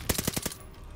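Rapid burst of gunfire in the Call of Duty: Vanguard shooter, set in Hamburg in 1945, with about five loud, evenly spaced shots in quick succession and then sudden quiet.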